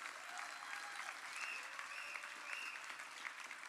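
An audience at a community energy roadshow in Louisiana's River Parishes claps steadily, a dense, even wash of applause that holds at a constant level throughout, with faint voices underneath.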